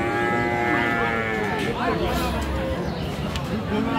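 Jersey dairy cows moo loudly and repeatedly at a busy rural cattle market in Dinajpur, sustained calls near and clear over a steady background of crowd chatter and voices.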